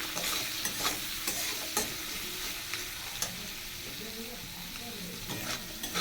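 Salt, turmeric and green and red chillies fry and sizzle in a pan for a kochu shak dish, with steady crackling and repeated scraping stirs close by, no talk.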